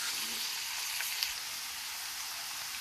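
Garlic scapes fry in a pan with a steady, even sizzle that hisses on without pause. No one speaks.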